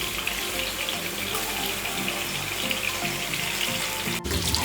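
Tap water runs steadily into a sink while fish for a hilsa curry is washed, a constant close splashing rush throughout with a brief dip near the end.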